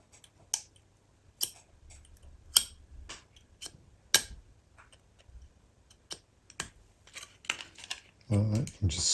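Hand cutting and scoring of 3D-printed support material with a knife, a series of sharp isolated snaps and clicks spaced irregularly, close and crisp, ending in a rougher scraping burst, with a voice speaking softly at times.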